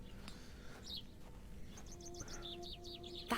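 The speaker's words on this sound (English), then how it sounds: "I like how they were random birds." Small birds chirp in the village ambience of the point-and-click game The Excavation of Hob's Barrow, a string of quick high tweets over a low background hum.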